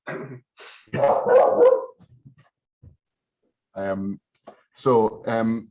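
A studio dog barks excitedly at someone arriving, a burst of loud, close barks followed after a pause by a few more, with people talking in between.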